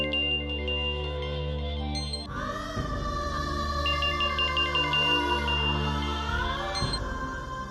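A phone rings with an incoming call in a Hindi TV drama scene, giving a repeated electronic ringtone melody over sustained dramatic background tones. The ringtone is fairly loud and clear.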